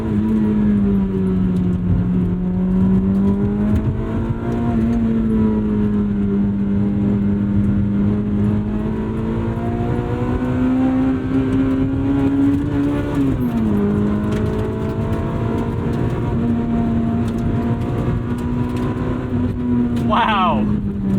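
A 1997 Honda Civic Type R EK9 engine revs steadily with a sustained, rising harmonic drone held loud for about twenty seconds, dipping briefly midway before climbing again, with a short high whine near the end.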